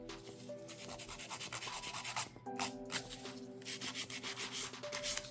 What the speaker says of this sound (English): It's a little difficult to file and shape a tip like this.